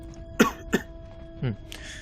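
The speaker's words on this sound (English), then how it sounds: "Bit of a cough there, but nothing serious." Two quick, sharp coughs close to the microphone, followed by a rougher throat-clearing sound, with a steady low hum underneath.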